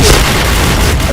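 A bomb blast in a multiplayer shooter game, a loud, dense boom filling the whole short moment without a break.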